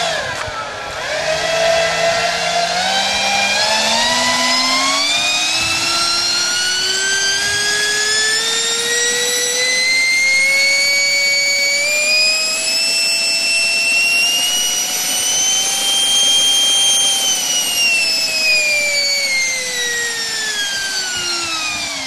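A FoxCub model aircraft engine on a test run screams loudly and continuously, its high whine rising steadily in pitch as power comes up, holding near full revs, then easing back down at the end, with no talk over it.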